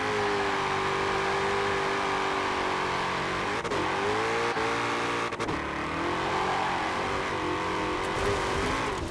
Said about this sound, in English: I'm gonna turn up the volume for you guys so you guys can actually like hear this car.